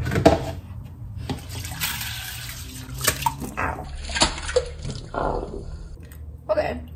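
Tap water runs into a sink while hands are washed in a home kitchen during a cooking class, a steady splashing wash with brief surges, heard close and under bursts of speech.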